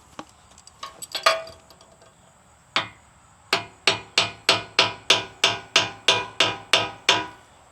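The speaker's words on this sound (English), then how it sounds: "Little tap, tap, tappy." Light hammer taps during a high-clearance rear bumper install on a third-generation Toyota Tacoma: a few scattered knocks, then a steady run of about a dozen evenly spaced, sharp metallic taps, close and clear.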